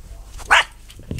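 A dog gives a single sharp, close bark, followed by quiet background with a faint thump at the end, heard while visiting Waiheke Island, New Zealand.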